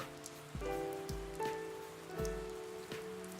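Night rain in Persona 4 Arena Ultimax falls as a steady soft patter on a surface, with low, quiet ambience and no voices.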